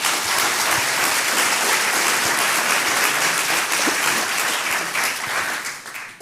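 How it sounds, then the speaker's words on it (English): Sustained applause from a large audience of current, retired and former Coach employees fills the hall, steady and dense throughout before tapering slightly at the end. "let's clap it up for that"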